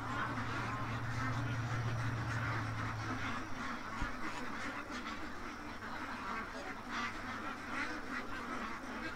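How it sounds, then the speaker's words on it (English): A flock of ducks quacks as the birds file into their pen, a soft steady chatter under a low humming background and occasional faint voices. "Oh, the ducks are going in now."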